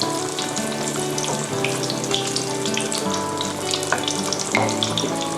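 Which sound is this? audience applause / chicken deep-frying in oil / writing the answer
chicken deep-frying in oil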